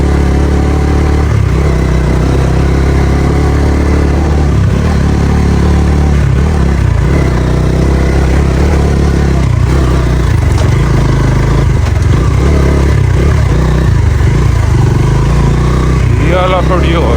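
A motorcycle rides along a rough uphill off-road village track, its engine droning loud and close throughout with uneven throttle surges and clattering over bumps.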